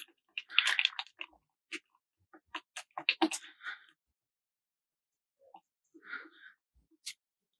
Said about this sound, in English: I'll stir without making it too bubbly here.